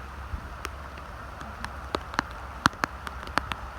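Rain falls at a campsite in the wild during a heavy storm, heard as a steady soft wash with scattered sharp drop taps striking nearby surfaces, fairly faint overall.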